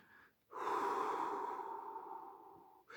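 A single slow, deep conscious breath, drawn in and released as a long, airy exhale that rises quickly and fades gently over about two seconds, close and quiet, alone after a brief pause.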